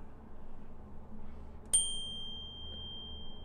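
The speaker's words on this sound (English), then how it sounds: "And for example, in this bell," A small bell struck once, ringing with a sharp metallic strike and a clear, sustained high tone that lingers for nearly two seconds over a quiet low background hum.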